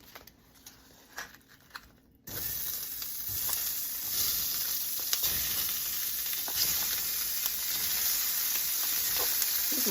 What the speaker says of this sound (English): Okay, our beef is going in.